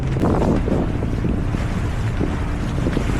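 A small boat rides sea waves far offshore on a deep sea fishing trip, with steady wind buffeting the microphone and water rushing against the hull, loud and continuous.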